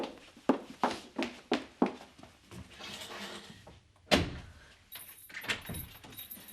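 A door in a home is unlocked and opened, with a series of sharp clicks and knocks of a key and latch, then a louder thud as it swings open, followed by faint rattling; close and fairly quiet.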